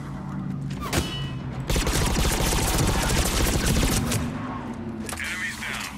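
Gunfire from Mass Effect 3 multiplayer: a dense fusillade of rapid shots, with a heavy volley in the middle, loud and close, mixed with game effects and brief talk.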